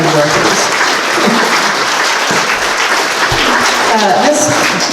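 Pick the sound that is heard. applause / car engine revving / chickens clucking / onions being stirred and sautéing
applause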